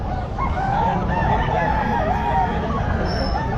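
A bull stag rooster at the Bocaue pet market crows in one drawn-out call over a busy, noisy market background.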